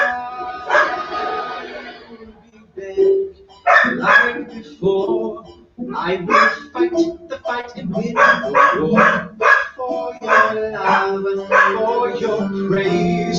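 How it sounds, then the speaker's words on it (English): Dog barking from a nearby room, breaking through over a singing voice with music. The barks come in a few short, scattered bursts and stay partly buried under the vocals. "I apologize if you hear a barking."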